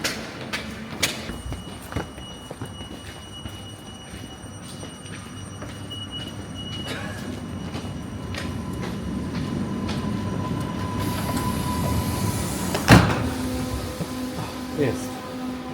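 A passenger train pulling into a station in Chorzów Batory, Poland, with a rumbling, rising roll of wheels and carriages, clicks and a sharp squeal near the end, with people talking over it.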